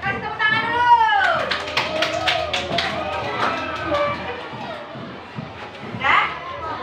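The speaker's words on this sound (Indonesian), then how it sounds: "Silakan dokter, kasih tepuk tangan dulu." Classroom applause for a doctor visiting a teacher's lesson, children clapping with scattered taps over steady kids' chatter and shouts, a brief burst near the end.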